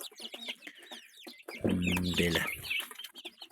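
Home-hatched chicks cheep constantly in a dense, high-pitched chorus of overlapping peeps, with a voice speaking briefly in the middle.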